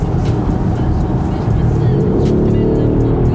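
A Mercedes-AMG GLS 63 SUV's engine accelerates in Sport Plus mode, a loud, steady engine roar heard from inside the cabin that swells slightly partway through.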